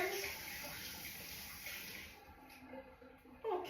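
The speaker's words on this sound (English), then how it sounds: "Let me rinse my hands." Water runs from a tap into a kitchen sink as hands are rinsed, a steady broadband gush that tapers off partway, with small splashes near the end.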